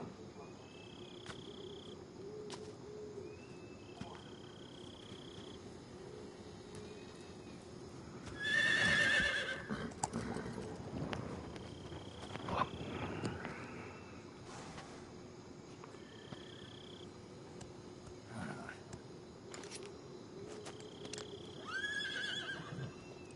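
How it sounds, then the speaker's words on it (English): A horse whinnies once loudly in Metal Gear Solid 3, amid quiet outdoor ambience with faint insect chirps and occasional clip-clop sounds. "Horse."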